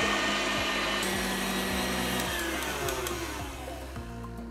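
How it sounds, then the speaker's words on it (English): An electric mixer whips egg whites on high speed for Italian meringue buttercream, giving a loud, close, steady motor whir with a whine that drifts slightly in pitch and eases a little toward the end. "I want to whip my egg whites now. So we're gonna do that on high speed for about 4 to 5 minutes"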